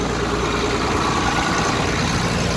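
A tractor engine drives a straw baler in a hay field, a loud, steady low rumble with a constant mechanical drone that never lets up, close by and with no voices.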